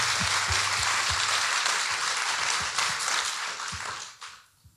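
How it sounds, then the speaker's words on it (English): Audience applause at a college book-of-the-year talk, a broad wash of clapping with a few distinct nearby claps, sustained then tapering off quickly into quiet at the end. "I'll let people applaud."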